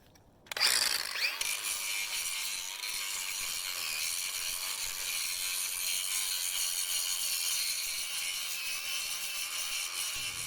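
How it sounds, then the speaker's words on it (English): A DeWalt 20V MAX DCG412B 4-1/2-inch cordless angle grinder with a masonry disc spins up sharply, then grinds concrete along a crack with a loud, steady, close-up high-pitched roar lasting about ten seconds. "that was a masonry disc for grinding down concrete."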